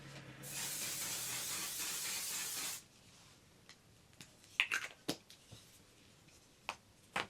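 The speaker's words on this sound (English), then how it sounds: "It's the One Size Until Dawn Mattifying Waterproof Setting Spray." A steady aerosol spray of makeup setting spray hisses for about two seconds, then stops, followed by quiet and a few small clicks and taps.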